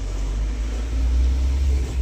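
Heavy car rolling down the Amboli ghat road with failed brakes, a steady low engine and road rumble, loud and continuous with no talk.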